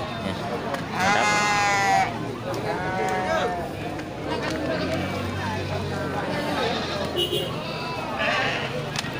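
Male goats at a busy livestock market bleat in wavering calls, loud at first and then fainter, over steady crowd babble and people talking nearby.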